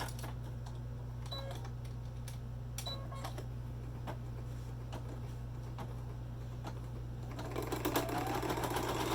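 An embroidery machine runs with a low steady hum and a faint ticking of stitches, a few sharp clacks as it jams on the thread, and a louder rattling burst near the end; no one speaks.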